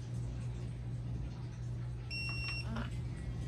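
A short electronic alarm beep from a Vulture Revo flag mount and spin detection sensor sounds briefly over a steady low hum, clear but not loud.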